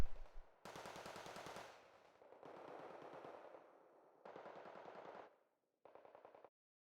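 Automatic gunfire from units in the real-time strategy video game Wargame: Red Dragon, with four sustained rapid bursts of machine-gun fire and a shorter fifth burst, loud and close, separated by brief pauses.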